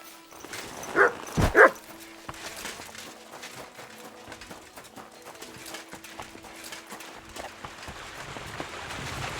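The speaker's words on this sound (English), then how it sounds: "You silly doggy." A dog gives two or three quick, loud barks early on in Kingdom Come: Deliverance II, then quiet ambient game noise and faint footsteps continue for the rest.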